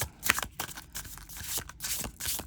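Oracle cards with a slick, slippery finish being shuffled by hand, giving repeated close papery riffles and slides in short uneven bursts, with no talking.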